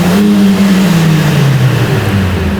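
Mercedes-AMG CLA 45 S Shooting Brake four-cylinder revved hard while parked, a loud, close, sustained engine roar that holds high and then slowly falls away.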